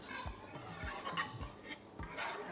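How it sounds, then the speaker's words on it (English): Food being stirred gently in a kitchen pot with a utensil, making a series of soft, rhythmic scraping swishes about every half second, close by and with no talking. "can you use this please to stir it gently?"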